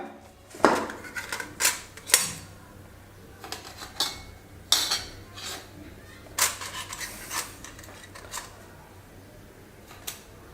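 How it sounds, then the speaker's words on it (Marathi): Coins and jewelry are set one by one onto a plate of rice during a Dhanteras puja, producing scattered sharp metallic clinks and soft taps with quiet pauses between them. "यामध्ये आपण हे जे दागिने आणि कॉईन होते ना जे धुवून पुसून घेतले आपण ते ठेवून घेऊया"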